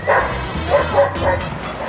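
Dogs bark and yip repeatedly at a busy dog park in Mexico City, several short bursts close by over a steady crowd hum, with a whimper in the mix.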